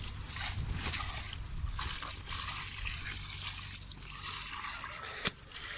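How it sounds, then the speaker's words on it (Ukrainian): Water poured generously from a can onto a cucumber seedbed of a salad variety, a steady trickling and splashing that runs close by for several seconds without talk. "Щедро водички полию."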